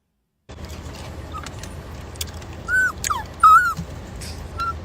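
A dog whimpers and yips in short, high, whining bursts, a few drawn-out cries rising and falling over steady low background noise, fairly close and with no talking.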